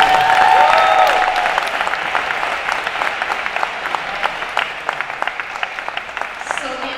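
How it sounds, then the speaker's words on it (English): Sustained applause from an audience at an awards ceremony, a dense wash of clapping that starts loud and slowly thins out into scattered individual claps over several seconds. "I want to ask everyone to give you a big round of applause"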